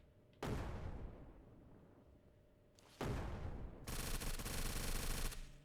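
A grenade detonates in the survival video game Surroundead, giving a loud, close blast that decays slowly, followed by a second heavy boom and a harsh, sustained burst of noise.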